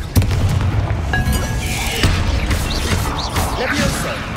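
Confringo blast spell in the Hogwarts Legacy video game, a loud booming explosion with crackling debris and rumbling tail, set within a dense, continuous mix of game sound effects and music.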